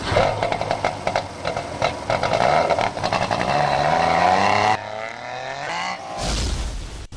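A buzzy two-stroke car engine in the video game The Long Drive revs and climbs steadily in pitch, then drops off and surges again briefly.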